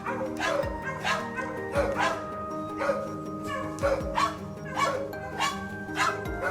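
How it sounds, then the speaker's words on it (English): Hunting dogs barking in a forest on a wild boar hunt, repeated sharp barks and yips in bursts roughly every second, fairly close with whimpers between. "Every time we heard them bark, our hearts pounded, ready for action."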